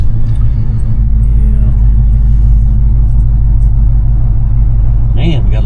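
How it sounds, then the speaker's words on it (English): Heavy road traffic heading toward a bridge, a steady low rumble of passing vehicles heard from inside a loud, droning vehicle, with people talking over it. "Man, we got a lot of traffic."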